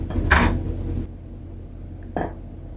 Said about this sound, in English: we cut 2 avocados.